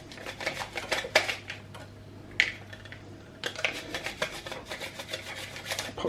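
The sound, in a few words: knife slicing garlic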